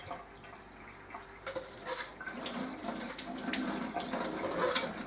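Warm water pours from a sink tap while a bird feeder is rinsed under it, the stream starting light and growing fuller and splashier as the item is moved through the flow, close by.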